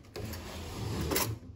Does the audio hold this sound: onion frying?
no